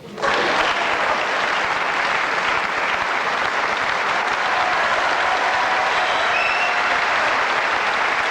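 A packed snooker arena crowd at the Derngate in Northampton bursts into sustained, loud applause for a pot, starting abruptly and holding steady as a dense clapping roar throughout.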